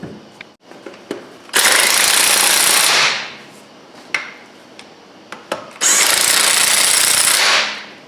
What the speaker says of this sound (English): now you take off the lug nut that's holding your rotors on